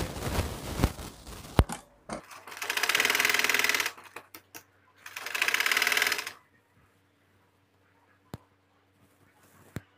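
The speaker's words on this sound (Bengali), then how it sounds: "এখন এই চেন পট্টি আর এই ফেলাই পট্টিটা আমরা সেলাই করে আটকে দিব" A sewing machine stitches the zipper placket of a pair of trousers, running in two steady bursts of about two seconds each, close and loud, with handling clicks before and after.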